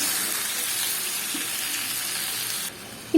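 Fish rubbed with chilli powder, turmeric and salt sizzles steadily in hot oil in a pan with onions, a continuous close frying hiss that dips briefly near the end, with no talking.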